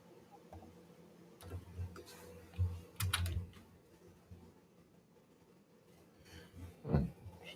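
Keys on a computer keyboard tap in short, scattered bursts of clicks at close range, with quiet pauses between them.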